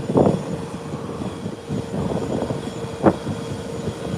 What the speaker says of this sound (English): American Airlines flying in their Airbus 319 from Miami, Florida, just touched down.